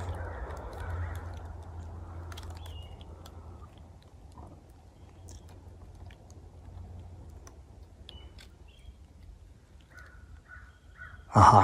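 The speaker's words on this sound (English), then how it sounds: "you can hear the crows" Outdoor ambience with a few crow caws, mostly distant, and a sharp louder call right at the end.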